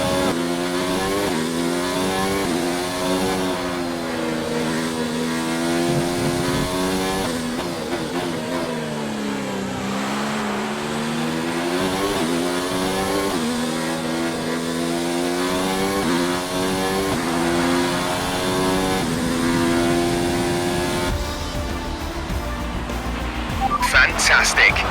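A Mercedes W10 Formula 1 car races its final lap of a Grand Prix, its high-pitched engine screaming steadily and shifting pitch as it accelerates, loud and continuous throughout, with a rising burst near the end.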